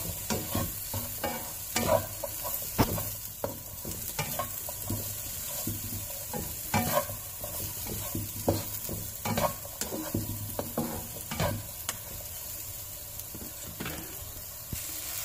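Broccoli rice with chili powder stirred in a pan, a continuous soft sizzle under repeated scraping and clinking stirs at an uneven pace, with no voices.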